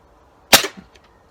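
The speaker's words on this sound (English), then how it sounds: "Just seems like it's shooting better than it ever has." A single sharp shot from a reassembled air gun cracks out close and loud, then decays quickly into quiet with a faint echo.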